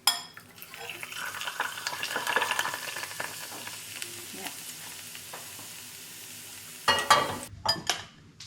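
Garlic fries in hot oil in a pan, a steady soft sizzle with a louder burst of crackling near the end, mixed with faint clinks of a utensil stirring.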